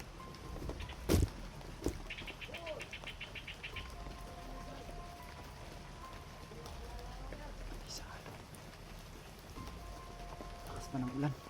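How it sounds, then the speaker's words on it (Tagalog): Heavy rain in a video game hisses steadily as a soft background wash, with a few sharp knocks, short tonal chirps and faint game sounds over it. "Lakas pa ng ulan."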